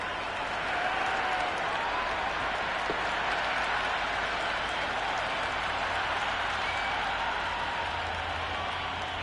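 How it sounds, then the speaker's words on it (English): Crowd cheering and applauding in the Cricket 26 video game during an IPL match between SRH and RR, a steady broad roar of a large stadium audience holding at an even level throughout. "The crowd are loving it."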